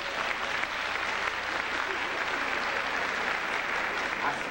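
Sustained applause from a large audience at a Spiritist congress in Ceará, a steady, even wash of many hands clapping at moderate loudness throughout, with a faint murmur of voices beneath.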